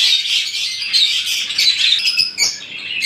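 A pair of olive lovebirds squawking continuously and close, with dense shrill chirps and calls overlapping throughout and no speech.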